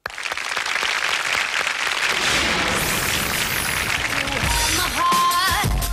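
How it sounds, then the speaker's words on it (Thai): An audience at a Filipino acrobatics show cheers loudly for two sibling acrobats, dense sustained applause and crowd noise filling the whole span, with whistle-like tones rising near the end. "ปรบมือดังๆให้กับ 2 พี่น้องกายกรรมโชว์ครับ"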